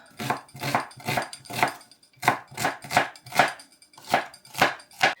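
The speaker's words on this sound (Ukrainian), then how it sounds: "Швиденько нарізаємо цибулю" A knife chops onion on a cutting board in quick bursts of sharp, close, evenly spaced thuds, with a short pause partway through. No voices are heard.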